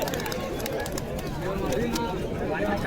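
Pigeons at a crowded open-air pigeon market in Beldanga, cooing and fluttering amid a steady hubbub of nearby voices and market noise.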